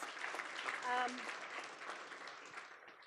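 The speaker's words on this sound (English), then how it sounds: "maybe we give them a round of applause" Steady applause from a crowd for panelists at a biography launch at the University of Johannesburg fills the clip, with a brief tonal sound and some chatter mixed in partway through.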